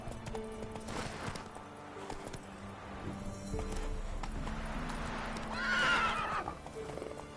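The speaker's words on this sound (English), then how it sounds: "Come on, Roach. Slow now. Whoa." Geralt's horse in a video game clip-clops along under a game music score. It gives a loud, close neigh near the end as it slows.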